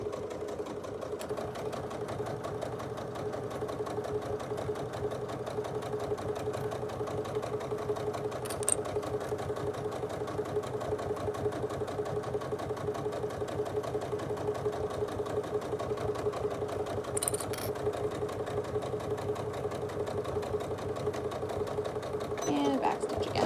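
A sewing machine hums steadily and continuously while a back stitch is sewn on a small tote, a close mid-pitched motor drone running throughout under a talking voice.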